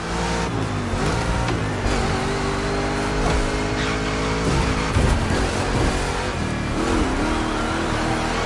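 A racing video game Mustang GT roars as it revs and accelerates through a two-lap race, with a continuous loud engine drone, shifting pitch sweeps and bursts of tire squeal, no voices over it.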